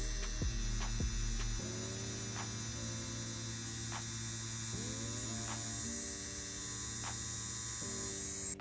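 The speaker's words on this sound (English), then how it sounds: "we got a nice solid line pull on the CNC Q2" A CNC Q2 rotary tattoo pen running while pulling a line, a steady electric hum and buzz with a faint high whine, holding continuously at close range with small shifts in pitch.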